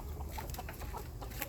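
Backyard chickens cluck in short, scattered bursts close by over a low steady background hum, with no talking.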